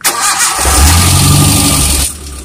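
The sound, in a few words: car engine starting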